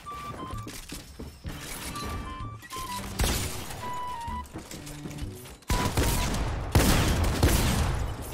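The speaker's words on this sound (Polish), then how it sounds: "Potem dostał dwa albo trzy strzały shotguna" Bursts of Fortnite shotgun fire, several sharp heavy blasts in quick succession amid scattered in-game effects and tones, loud and close.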